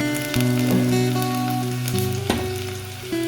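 Loud, continuous sizzling and crackling of garlic and onion frying in hot oil, with steady tones running underneath and an occasional stir.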